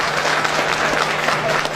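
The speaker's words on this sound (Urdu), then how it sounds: "اپنے لیے بھرپور تالیاں بجائے ذرا زور سے" An audience at a Pakistani community gathering in Greece applauds loudly and steadily, a dense continuous wash of clapping with a low hum beneath.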